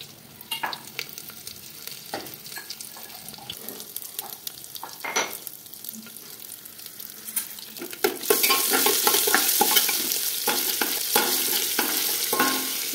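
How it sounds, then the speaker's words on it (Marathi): Whole spices and a spoonful of ginger garlic paste frying in hot oil for chicken biryani, a continuous close sizzle with stirring scrapes that grows louder and brighter partway through. "1 चम्मच अद्रक आणि लसूणचं पेस्ट टाकणार आहे मी तेलामध्ये फ्राय होण्यासाठी"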